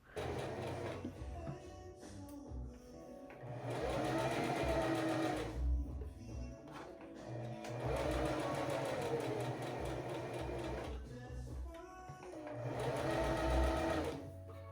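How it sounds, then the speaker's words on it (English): A sewing machine runs a straight stitch along a seam in linen trousers, whirring in several sustained bursts separated by short pauses, with soft clicks and thumps between runs. "you're just going to do a straight stitch right on the seam here"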